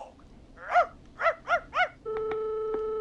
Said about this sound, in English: You just let loose the junkyard dog.